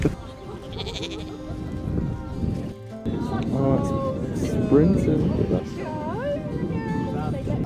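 Sheep bleat repeatedly, some near and some farther off, with wavering calls rising over a busy outdoor background and people talking throughout.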